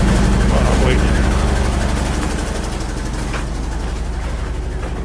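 A generator engine sputters through a cold start on a winter morning, a steady loud low-pitched chugging with an irregular, uneven beat that carries on throughout.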